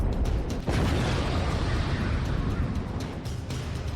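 Missile strikes in the Russia–Ukraine war sound as a continuous rumbling roar of explosions, with a sharp burst near the start followed by a sustained heavy, noisy wash that stays loud throughout.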